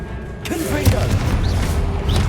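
Confringo, an explosive spell, cast during combat in Hogwarts Legacy, with booming magical blasts and whooshing impacts over a steady rumble, while a voice calls out spell names.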